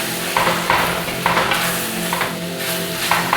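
Fennel and pepper powder being stirred in a hot frying pan, a steady sizzle with a repeating scrape of the spoon roughly every half second, close and alone.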